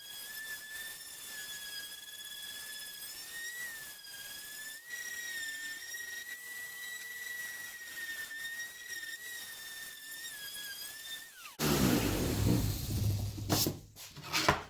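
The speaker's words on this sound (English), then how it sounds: "I put a nice little round just with the random orbital sander" A random orbital sander whines in a steady high tone while rounding the edges of a large wooden pencil, close and moderately loud. The whine cuts off near the end and gives way to a burst of louder handling noise.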